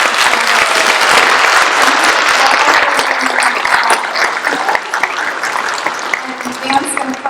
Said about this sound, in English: I'd just like to give all of you another round of applause